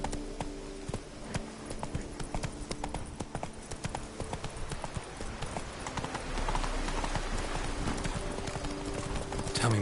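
Roach, Geralt's horse in The Witcher 3: Wild Hunt, gallops in a rapid, steady clip-clop of hooves, loud and close, over game ambience with a voice briefly heard.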